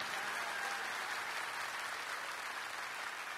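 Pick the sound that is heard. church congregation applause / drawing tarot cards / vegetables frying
church congregation applause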